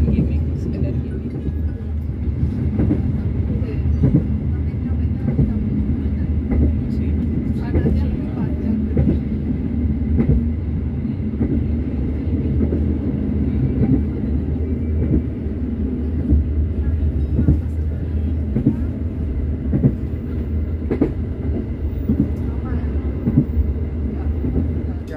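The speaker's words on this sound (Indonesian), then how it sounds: "kereta api Sri Tanjung yang saya naiki telah tiba di stasiun Tanggul" The Sri Tanjung passenger train rumbles along continuously from inside a carriage, with a loud, steady low drone and rhythmic clacks of wheels over rail joints.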